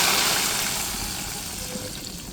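Hot mustard oil tempering poured into cooked, well-fried country chicken curry, giving a steady, close hissing sizzle with a watery splashing texture that slowly eases off.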